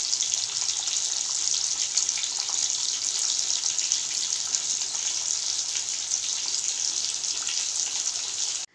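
Turmeric-coated rohu fish pieces fry in hot oil in a kadai, giving a steady, close hiss of sizzling that runs unbroken for several seconds before cutting off abruptly.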